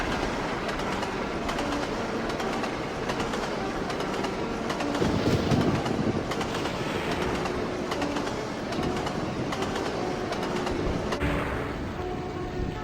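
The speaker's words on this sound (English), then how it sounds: "The passenger train that Walter and Jezebel Keystone were on raced past the goods train" A passenger train races past a goods train, a steady loud rumble with clattering wheel noise and broadband rail roar running throughout, with faint bird calls in the background and no talk.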